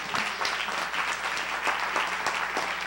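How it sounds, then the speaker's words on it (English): Audience applause at a live-streamed gathering, a steady wash of clapping filling the room with scattered sharper claps standing out, continuous and fairly close throughout. "Go ahead and clap."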